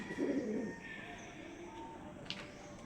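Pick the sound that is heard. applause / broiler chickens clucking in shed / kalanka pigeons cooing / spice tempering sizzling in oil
kalanka pigeons cooing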